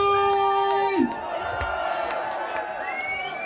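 A crowd cheers and roars at a live reggae sound system show at the Fox & Firkin in Lewisham, a loud, sustained wash of voices under ringing music tones from the system.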